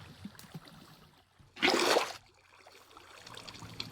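Minecraft water flowing from a placed source, a brief loud rushing splash in the middle that fades to a faint trickling murmur.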